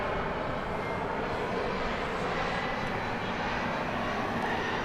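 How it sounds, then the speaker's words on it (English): An American Boeing 787 airliner takes off from runway 18 left at Dallas Fort Worth Airport, a loud, steady, broadband engine roar that stays strong and close throughout the whole clip. "Out of Bay Park, here for takeoff, 18 left, American 787."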